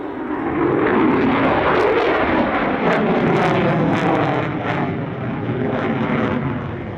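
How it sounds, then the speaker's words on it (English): An F-35A fighter jet makes a loud, sustained roaring flyby during an aerobatic display at the Wings Over Illawarra 2021 airshow, the broadband jet noise swelling and holding steady for several seconds. "one final manoeuvre concluding what is the first public aerobatic demonstration of the F-35A"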